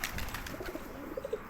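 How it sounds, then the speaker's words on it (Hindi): Domestic pigeons cooing softly as they peck at grain, a few short low coos that are faint and close, with no talking. "अपने सारे कबूतर दाना चुग रहे हैं और मस्त मस्ती में गुटरगू कर रहे हैं"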